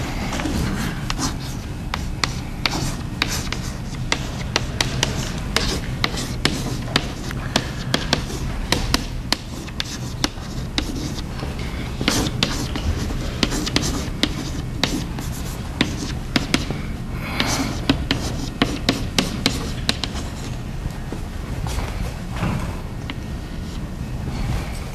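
Pencils and pens scratching on paper as a classroom of chemistry students writes, a steady busy texture of scribbles and taps filling the room for the whole stretch, with occasional faint murmurs.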